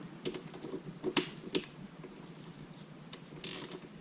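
A ratchet loosens a nut near the cable end on a Porsche 944S engine during valve cover and chain tensioner work, giving a few close, sharp clicking bursts separated by pauses, with no talking.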